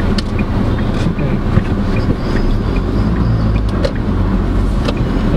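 Inside a 2022 Maxus T60 manual pickup on a bumpy road, a constant deep road and engine rumble with wind hiss fills the cab, broken by occasional small knocks, with no voices.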